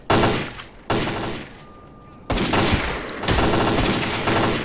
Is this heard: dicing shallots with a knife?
no